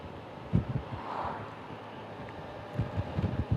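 Gusts of wind buffet the microphone in low rumbling bursts, close and uneven, with no talking.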